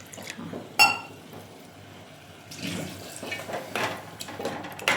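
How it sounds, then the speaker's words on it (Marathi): Water splashes and pours in uneven bursts into an aubergine curry being cooked, quiet and close, with a gentle hiss running between the pours. "टाका थोडं पाणी टाका."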